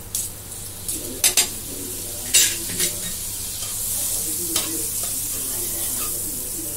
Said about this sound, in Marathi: पाव भाजून घेऊया. बटर टाकून घेते.